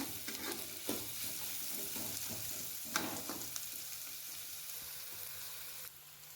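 Chopped ingredients for chicken varuval fry in a pan and are stirred until golden, a soft continuous sizzle broken by a few scraping strokes of a spoon, quiet and close, with no voices.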